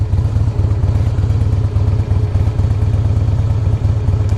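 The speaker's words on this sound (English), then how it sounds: "Let's see if I can shift without popping it into neutral." A 2005 Harley-Davidson Heritage Softail riding along, with its loud, low, pulsing engine rumble running steadily throughout while the rider works through the gears, and no voice over it.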